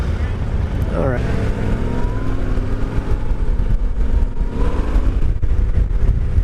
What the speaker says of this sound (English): This engine is so smooth.